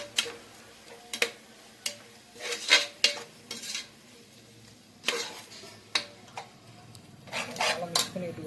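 Biryani masala being stirred in a pot, with a spoon clinking and scraping against the metal in scattered, irregular knocks and a faint sizzle underneath, no voices.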